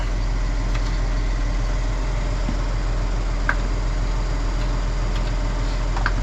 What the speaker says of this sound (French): pour que le tracteur ne descende pas en dessous 1300 tours